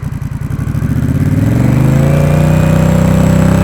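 A 2021 Honda Rebel 1100 fitted with a Coffman's Thunder exhaust, starting from a loping idle and revving smoothly up to about 4,000 RPM, where it holds as a loud, steady, close engine drone.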